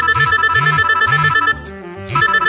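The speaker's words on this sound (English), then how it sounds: "That's my cell phone." A cell phone rings with a repeating electronic telephone-bell tone, four bursts in a steady rhythm with a short gap before the last, loud and close with no talk over it.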